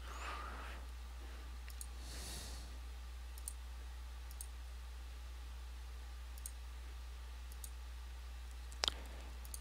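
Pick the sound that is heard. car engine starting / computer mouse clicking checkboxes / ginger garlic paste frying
computer mouse clicking checkboxes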